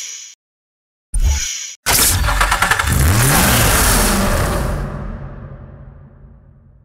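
A Nissan Spec V police car in a racing game roars to life, its engine revving hard through a long, loud climb before fading away into the distance.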